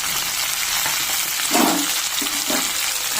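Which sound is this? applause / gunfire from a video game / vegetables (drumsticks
vegetables (drumsticks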